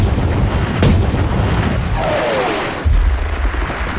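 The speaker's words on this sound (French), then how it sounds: "Avec une préparation d'artillerie, puis une attaque massive de chars" Heavy World War II artillery barrage near the Somme-like front against German 88 guns, a continuous loud rumble of booms with sharper blasts punctuating it throughout.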